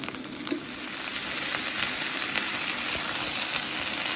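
Garlic cloves sizzle steadily as they brown in a pan for a summer tart of courgettes, aubergines and goat cheese, a continuous close frying hiss with no talk.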